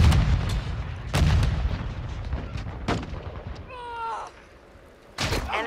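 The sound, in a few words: grenade explosion in Call of Duty: Modern Warfare 2 (video game)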